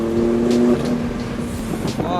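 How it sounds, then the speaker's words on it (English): A BMW F80 M3 inline-six with catless downpipes and stock exhaust, valve open, gives a deep, throaty drone that holds steady nearby. A voice talks over it. "These catless downpipes on the stock exhaust with the valve actively open, it's not too raspy."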